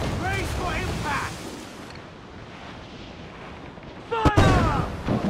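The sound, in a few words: ship cannons firing in Assassin's Creed IV: Black Flag video game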